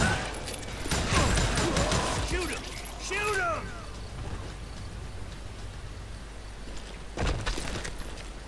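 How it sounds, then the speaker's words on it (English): Gunshots from the Wild West shooter Call of Juarez: Gunslinger crackle in a loud volley at the start and burst again near the end, with a voice talking in between over a steady hiss. "Watch where you're shooting."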